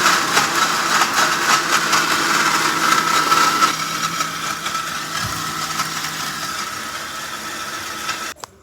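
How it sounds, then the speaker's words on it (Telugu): A mixer grinder whirs loudly and steadily as fried coconut is ground in a mixie jar, then the motor winds down and stops near the end, with no talking. "నెక్స్ట్ అది చల్లారిన తర్వాత మిక్సీ జార్లో వేసుకొని గ్రైండ్ చేసుకోవాలి"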